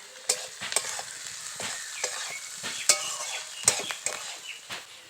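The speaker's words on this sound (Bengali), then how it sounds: "নাড়াচাড়া করে দেবো।" Potatoes with a spoonful of salt stirred in a frying pan, a soft steady sizzle broken by repeated sharp scrapes and clinks of the spoon against the pan, close and moderately loud.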